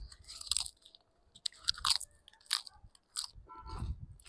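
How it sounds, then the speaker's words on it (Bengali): Fresh insulin plant leaf chewed up close, with crisp crunchy bites and wet chewing in uneven bursts, loud against a quiet background. "এটা সকালে খালি পেটে একটা পাতা ছিঁড়ে ধুয়ে নিলেন, ধুয়ে খালি পেটে এইভাবে খেয়ে নেবেন"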